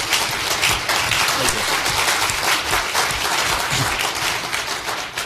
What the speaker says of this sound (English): Let's give Mike a round of applause for that.